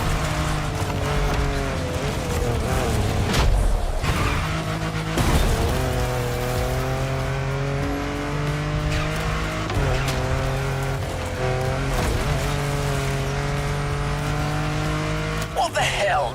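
Off-road car driving in The Crew Motorfest, a steady droning engine with shifting revs and gear changes running throughout, with occasional rough bumps and thuds along the way.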